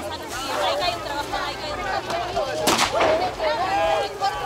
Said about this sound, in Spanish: Comienza a haber disparos, la policía.